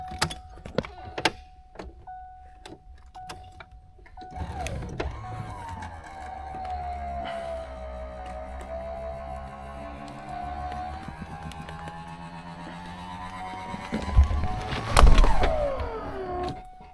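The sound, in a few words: 1989 Mustang GT convertible power top moving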